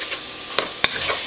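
Hot Italian sausage sizzles and crackles as it browns in a pan, steady frying hiss with two sharp scraping stir strokes from a utensil.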